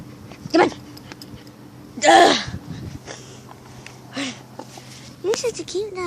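A pet dog named Max lets out short whimpers and whines while playing with a frisbee, a few brief high yelps spread across the moment, close and fairly loud.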